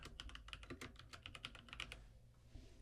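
Typing on a computer keyboard with a quick, irregular run of crisp, close key clicks for about two seconds, then a short pause; quiet and without voices.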